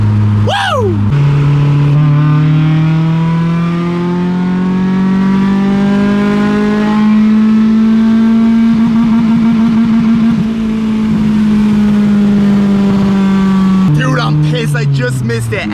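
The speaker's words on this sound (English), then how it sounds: "As I hit rev limiter in third right there" A Honda Civic hatch engine climbs steadily in pitch through third gear toward the rev limiter, loud and close from inside the car, with a sharp burst of voice at the start and end.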